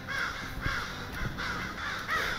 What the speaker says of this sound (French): ça c'est une corneille